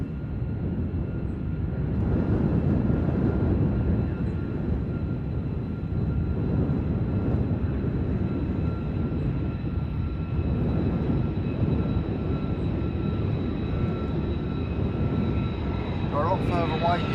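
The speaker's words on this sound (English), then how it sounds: "F-35 is out of Lakenheath" An F-35 fighter jet out of Lakenheath roars at a distance, a broad rumbling jet noise that holds steady throughout, while someone talks over it.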